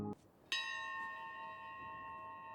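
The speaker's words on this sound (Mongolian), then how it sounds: "хонхыг цохив." A single bell is struck once, a loud clang that rings on with a long, steady hum slowly fading, heard alone after a short low sound.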